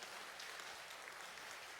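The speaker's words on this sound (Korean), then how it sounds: "하나님께 박수로 영광을 올려드리십시다" Church congregation applause during a Sunday afternoon praise service, a short, dense, even wash of clapping heard from a distance with no voices over it.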